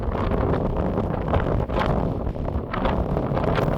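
Strong mountain wind on Aconcagua buffets the microphone in a continuous loud roar with gusty surges and brief dips, with no voices.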